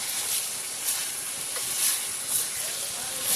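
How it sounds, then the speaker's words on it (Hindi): Ginger garlic paste frying for mutton gives a dense, continuous hiss and sizzle in the pan, loud and close, with faint swells and no speech. "इसी स्टेज पे हमको जिंजर गार्लिक पेस्ट जो हमारा हरा मसाला है वो ऐड करना है और उसे ऐड करके अच्छे से इसको भून लेंगे।"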